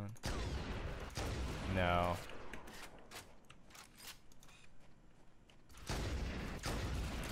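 Pistol shots in Halo: Combat Evolved ring out as a few sharp bursts with mechanical clanks, near and loud, between quieter stretches where a voice speaks briefly.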